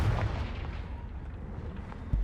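Confringo blasting spell going off in the Hogwarts Legacy video game, a deep rumbling boom with a sharp burst near the end, loud and alone with no talk.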